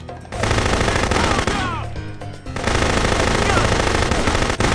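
Machine gun fire in the video game No One Lives Forever 2: long, loud sustained automatic bursts with a brief gap midway, close and dense, with faint game sounds underneath.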